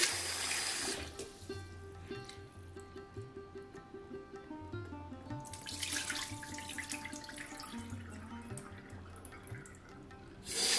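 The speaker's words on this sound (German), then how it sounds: "Zuerst waschen wir den Basmati-Reis sehr gut, bis das Wasser klar ist, damit sie nicht zusammenkleben." Basmati rice is washed under a running kitchen tap, water streaming and splashing into a sink with bursts of swishing as the grains are rinsed, alongside faint tonal background music.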